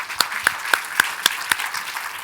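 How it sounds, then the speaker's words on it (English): Sparse, slow clapping for a women-in-tech panel: about six distinct sharp claps spaced roughly a quarter second apart, fairly close, with a faint murmur between them. "Please give a huge round of applause to our lovely panel."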